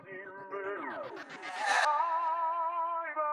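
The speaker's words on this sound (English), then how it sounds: "this other riser we have happening is just a reverse sizzle cymbal," A reverse sizzle cymbal riser with tremolo swells upward over a musical sample that spins down in pitch, ending on a sustained tone.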